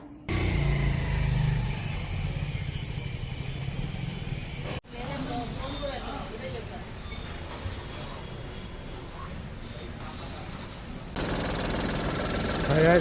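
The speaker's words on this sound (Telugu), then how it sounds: "మన బండికి సైలెన్సర్ పగిలిపోయింది" A BS6 vehicle's engine runs with a broken silencer, giving a loud, rough, rattling exhaust drone close by, broken into several abrupt segments.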